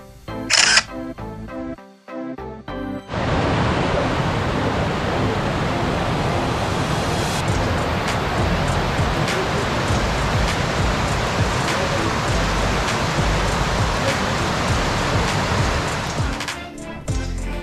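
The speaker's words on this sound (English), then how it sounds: "so it was really neat to see the ice frozen all around the waterfall" Waterfall at Cloudland Canyon State Park in Georgia, ringed with ice in winter, gives a loud, steady rushing roar that starts after a brief pause and fills the clip up close without letting up.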